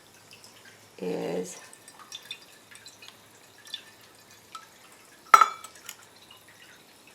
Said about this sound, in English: just give it some water too